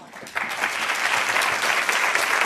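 A theatre audience gives steady, dense applause after a speech, many hands clapping together in a continuous loud wash that holds its level throughout.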